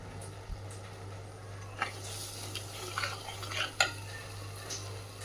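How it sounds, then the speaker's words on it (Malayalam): Ground coconut and turmeric being stirred into a Kerala-style fish curry, with a few soft scrapes and clinks of a spoon against the pot over a steady low hum, quiet and close. "ആ തേങ്ങ അരച്ചതും കൂടെ അതിനകത്തേക്ക് ചേർത്ത് കൊടുത്ത് ഒന്ന് നല്ലപോലെ ഒന്ന് ഇളക്കി യോജിപ്പിക്കാം"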